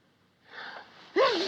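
A single sharp sneeze bursts out near the end, preceded by a short intake of breath; close and fairly loud, no talking.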